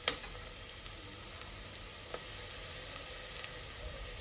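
Ingredients for paaya soup frying in a pan until slightly browned, making a soft, steady sizzle with faint ticks and stirring clicks, quiet and continuous, with no talk.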